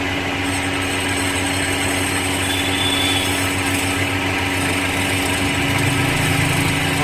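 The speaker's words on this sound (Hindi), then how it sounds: "दोस्तों मैंने चला दिया है ग्राइंडर, तो देखो मैं इसको बड़े जो मेरे पे लंबा ड्रेसर इससे काम कर रहा हूँ।" A bench grinder runs steadily while its stone wheel is dressed with a long dresser, giving a loud continuous motor whine and grinding hum with no pauses or voices.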